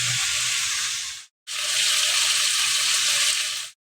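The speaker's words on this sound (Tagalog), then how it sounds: "Piniprito na natin ang patatas." Potatoes frying in a pan, a loud, close, hissing sizzle that cuts out briefly and then resumes at full strength.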